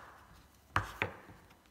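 A kitchen gadget knife cuts down onto a board in two quick, crisp knocks about a quarter second apart, faint and close against a quiet room.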